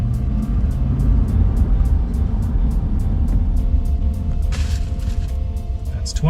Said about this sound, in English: We'll accelerate up to 55 and then hit the brakes.